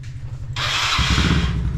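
A motorcycle cranks with a steady starter whir, then catches and settles into a loud, rapid idle close by.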